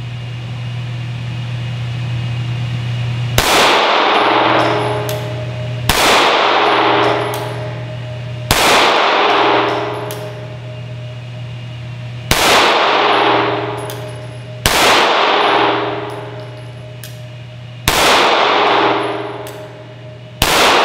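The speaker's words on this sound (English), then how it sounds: "let's see what I do with just some precision shooting, see if I can keep this thing in a nice tight group" Six loud, ringing metallic clangs from Beretta APX 9mm pistol shots, 4.5-inch barrel, striking steel targets during precision shooting, spaced a few seconds apart, each decaying slowly over a steady low hum.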